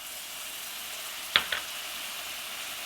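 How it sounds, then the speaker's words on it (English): Tomato paste dropped into a sizzling spice mix in a pan for baby eggplant curry: a steady hiss of frying throughout, broken by a sharp spatter and a smaller second pop midway. "So now I am going to add the tomato paste,"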